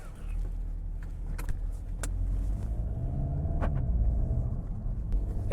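Volkswagen Golf Mk8 GTI S pulling away for a drive, a steady low engine and road rumble inside the cabin with a few light clicks and taps over it, no talk.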